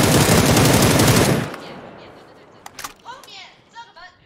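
Loud, rapid automatic gunfire in a shooter video game, a dense burst lasting over a second that cuts off, leaving faint background and a few sharp distant clicks and game effects.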